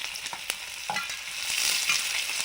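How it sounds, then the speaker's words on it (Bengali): Chow mein fries and sizzles in hot oil with ginger and garlic, a steady loud hiss broken by the scrape and clatter of stirring, close by with no talk. "চাউমিনটা এবার ভেজে নেব তেল আদা রসুন"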